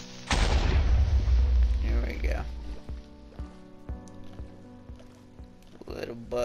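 A creeper blows up in Minecraft with a loud, booming burst at the start that rumbles and slowly fades, then quieter game sounds and music follow.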